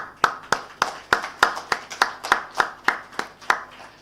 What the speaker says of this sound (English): can I have a big round of applause for them once, please?